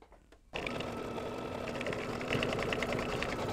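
After a brief quiet moment, a sewing machine with yellow thread starts stitching the outline of a mug rug, its rapid, steady mechanical hum running close and even.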